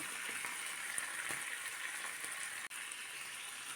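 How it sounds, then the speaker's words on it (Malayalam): Fish coated in masala fries in shallow oil in a pan on a low flame, giving a faint, steady, even sizzle with a few soft crackles and one brief click, with no voices. "ലോ ഫ്ലെയിമിലിട്ട് മാത്രമേ മീൻ ഫ്രൈ ചെയ്തെടുക്കാവൂ"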